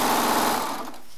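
A Baby Lock serger stitches charm squares, a steady high-pitched mechanical whir running at speed and then slowing to a stop.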